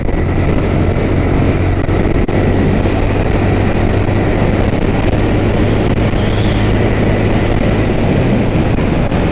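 Motorcycle ridden along a rough mountain road, a loud, steady engine drone with heavy wind buffeting the microphone, continuous throughout with no voices.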